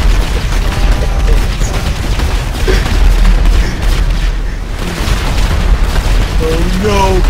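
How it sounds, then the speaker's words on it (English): Gunshots and explosions in GTA Online during a modded adversary mode match, a dense, continuous barrage of booms and bursts with a few tonal game sounds near the end, under excited shouting. "I didn't mean to shoot him!"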